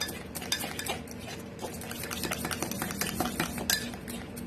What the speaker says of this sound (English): mix all these together like very well to combine it